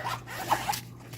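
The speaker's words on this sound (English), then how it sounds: "The zipper works well." Zipper on a fabric sewing kit case pulled open or shut in a few quick raspy strokes, close and fairly quiet, with no talking.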